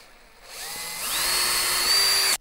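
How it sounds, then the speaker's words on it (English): A power drill bores a 6 mm hole in wood for a Longworth-style chuck, its whine rising in pitch as it spins up, then holding a loud, steady high drone before cutting off abruptly. "drill a 6 mil hole into there"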